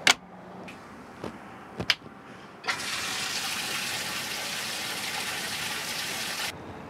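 Water gushes steadily into the live well of a Yamaha 222 FSH boat, a loud continuous fill of about four seconds after a few short knocks, then cutting off abruptly.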